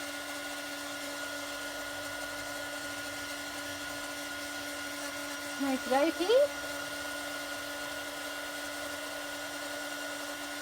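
A heat gun melting embossing powder on a vintage rubber-stamped image gives a steady, close whirring blow with a constant hum throughout, while a voice speaks briefly midway.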